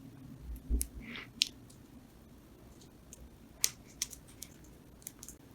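Paper rustles softly as an origami flap is folded, with a few sharp crisp creasing clicks standing out against quiet background noise.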